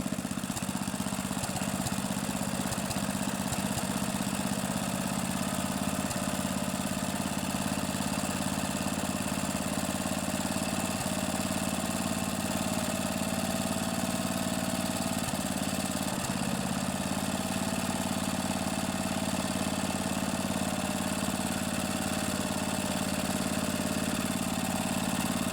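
A vintage 8 hp Briggs and Stratton engine on a Snapper riding mower idles steadily with an even, droning hum and faint mechanical vibration, running alone without any talk.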